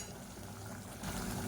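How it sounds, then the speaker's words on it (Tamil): A pot of kuzhambu gravy bubbles at a boil, a soft, steady wash of bubbling and gurgling that grows slightly stronger partway through the brief stretch. "இப்போ பாருங்கள் குழம்பு நல்லா கொதிச்சுட்டு"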